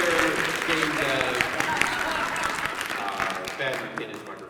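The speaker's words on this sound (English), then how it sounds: "Please round of applause for Jacob here." Crowd applause for a voice actor guest at a live PAX East convention show, clapping from an audience at moderate level, mixed with talking and room noise.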